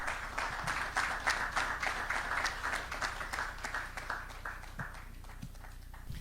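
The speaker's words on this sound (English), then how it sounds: "Another round of applause for her." An audience at an economic outlook conference applauds after a talk, a fairly faint patter of clapping that is dense at first and thins out toward the end.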